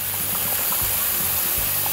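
Water pours steadily from a tap into a pot of turkey necks with a continuous, loud gushing splash.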